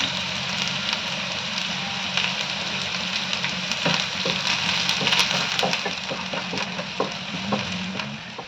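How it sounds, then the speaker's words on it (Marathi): Onion and curry leaves frying in a hot pan for Maharashtrian bhindi masala. A steady, crackling sizzle runs throughout with scattered pops, close and fairly loud, with no talk. "परतून घेऊया, लालसर करून घेऊया कांदा"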